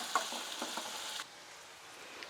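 Onions frying in a pan for an upsaaru kaara tempering, giving a soft sizzle with a few light stirring taps that drops quieter partway through, faint and close, with no voices.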